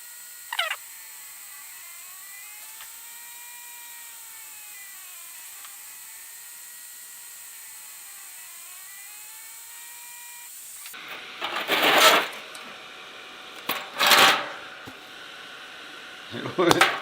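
A Longer Ray5 10W laser cutter runs at slow speed, giving a steady high whine with softly sweeping tones for several seconds, then louder rough bursts of mechanical buzzing and rattling follow.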